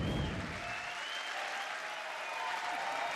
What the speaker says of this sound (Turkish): Alkışlar, bütün alkışlar.